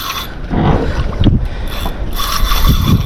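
A fishing reel's drag clicks and ratchets while a big fish is fought during slow pitch jigging from a boat, with loud mechanical whirring and clicking bursts up close over background rumble.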